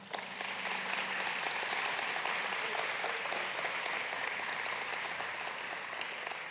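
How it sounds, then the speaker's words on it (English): An audience at the 2024 Caldwell State of the City event gives a sustained round of applause, a dense, even clapping from a large crowd in a hall that carries on throughout. "I think it's appropriate to give them a round of applause."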